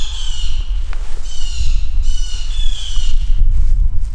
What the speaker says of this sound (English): those crows are really keying up on me